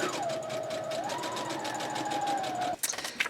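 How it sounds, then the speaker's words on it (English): A sewing machine stitches continuously around the edge of a paper journal card, a steady whirring motor hum, close and even, ending with a few brief clicks and handling noises. "I want to sew around the edge of my card just to give it a little bit more personality. So I'm going to take this to my sewing machine"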